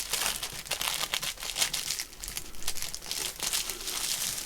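Paper crinkling and rustling as it is folded into a vintage sewing journal, a steady close-up crackle with soft crunches lasting throughout, no speech.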